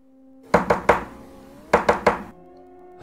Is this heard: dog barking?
no